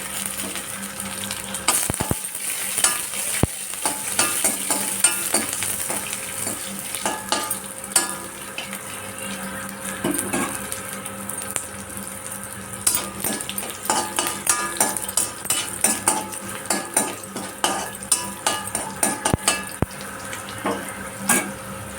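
Chopped garlic frying and being stirred in a pan for tomato chutney: an ongoing sizzle under repeated scrapes and clinks of a metal spoon against the pan, growing busier toward the end.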